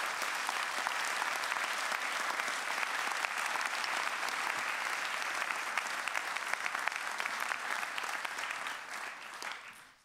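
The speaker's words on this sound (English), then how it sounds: "So join me in a big round of applause for Professor Russell." An audience at a debate on the existential risks of AI at Pakhuis de Zwijger in Amsterdam applauds after a talk, a steady dense wash of clapping that holds for about nine seconds and then fades out at the end.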